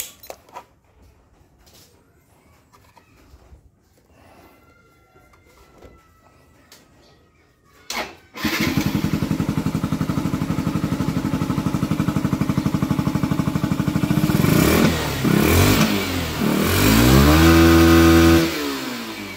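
A Yamaha SZ motorcycle that had stalled gets started after quiet fiddling. The engine catches abruptly and runs loud and close, with the revs rising and then falling.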